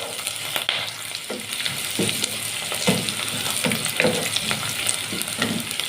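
Whole garlic cloves and onion sizzle in a pot while being stirred for lentil soup, a steady frying hiss broken by soft scraping stir strokes, close and continuous, with no talking.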